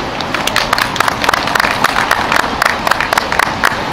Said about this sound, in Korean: 촛불문화제를 박수로 시작하도록 하겠습니다